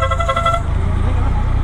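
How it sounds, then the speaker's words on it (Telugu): A faulty motorcycle horn gives a short, harsh, buzzing honk that cuts off after about half a second, leaving steady road and engine rumble close by. "హార్న్కి ఏదో అయ్యింది"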